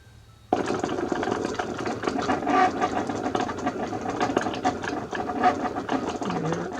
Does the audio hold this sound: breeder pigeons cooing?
no